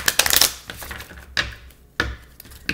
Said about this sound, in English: one more shuffle, guys, and we'll get into it.